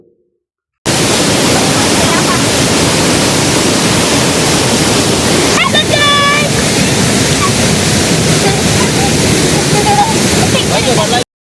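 A waterfall in Mattannur pours with a strong, continuous roar of rushing water, loud and close throughout, broken briefly by a higher tonal sound midway.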